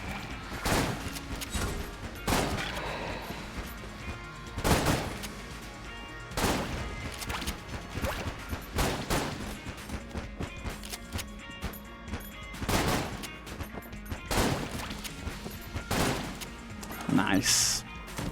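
Hot glue gun weapon firing in the game Enter the Gungeon, repeated sharp shot bursts at irregular intervals across a busy game soundtrack, with a voice talking over it.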